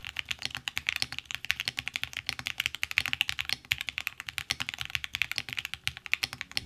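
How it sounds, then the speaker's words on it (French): Fast, steady typing on a foamless Wind Sin65 mechanical keyboard, a dense stream of crisp clacky keystrokes close up with no pauses and no talking. "Et ça, c'est un clavier à 350 euros sans mousse."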